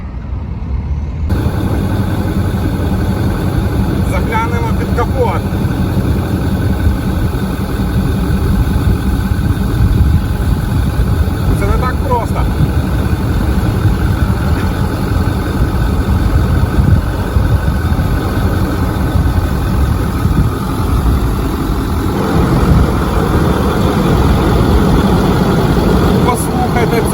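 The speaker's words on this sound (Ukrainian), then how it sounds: "Послухайте, як звучить 6-літровий дизельний двигун." A large 6-litre diesel pickup truck engine idles steadily with a deep, constant rumble that stays loud and unchanging throughout.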